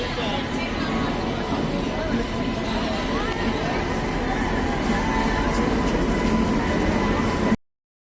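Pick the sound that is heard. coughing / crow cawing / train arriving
train arriving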